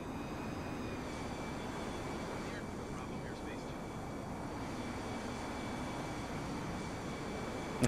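Avro Vulcan bomber jet engines in Microsoft Flight Simulator 2020, a steady, loud broadband roar with a faint high whine running unbroken throughout, no voices.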